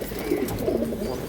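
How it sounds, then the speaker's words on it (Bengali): Giribaz high-flying pigeon cooing nearby, a soft low murmuring coo lasting about a second over faint background noise. "এটা চমৎকার একটা হাই পালার কবুতর"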